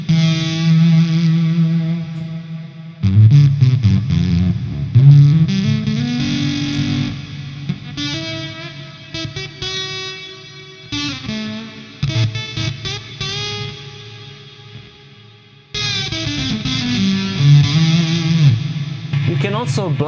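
An electric guitar runs through a Gamechanger Audio Plasma distortion pedal into an amplifier, giving harsh, buzzy, heavily saturated chords and notes in loud bursts with gated stops and lingering reverb tails.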